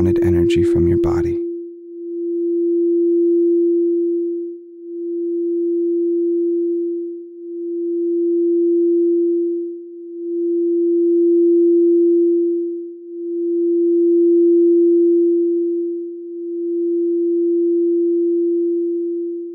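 A 343 Hz crystal singing bowl rings in a pure, steady sustained tone that swells and fades in long repeated waves of about two to three seconds, loud and close, after a short stretch of speaking voice at the start.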